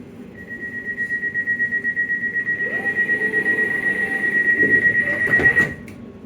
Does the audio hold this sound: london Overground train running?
yes